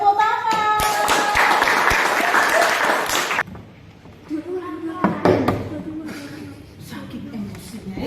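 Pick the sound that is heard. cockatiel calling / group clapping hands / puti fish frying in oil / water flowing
group clapping hands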